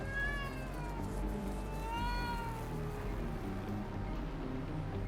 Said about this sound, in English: you can hear some faint meows coming from the storm drain